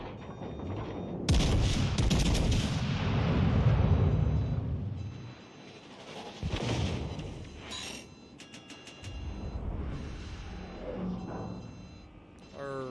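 Naval gunfire from secondary guns in World of Warships Legends comes as loud rolling booms and rapid cannon fire, in long dense bursts with brief pauses and a clanking sound between salvos.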